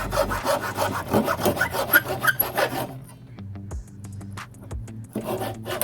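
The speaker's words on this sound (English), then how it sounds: "I used a hacksaw here to make a nice, clean, smooth cut." A hacksaw cuts through wooden legs for modular dock terrain, a steady rhythmic rasp of back-and-forth strokes up close for about three seconds, then quieter intermittent scrapes and knocks.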